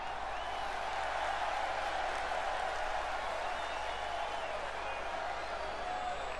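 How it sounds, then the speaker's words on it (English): A wrestling-arena crowd in WWE 2K22 keeps up a steady, dense roar of cheering and applause that stays loud and unbroken throughout, with no individual voice standing out. "telling the crowd to get louder"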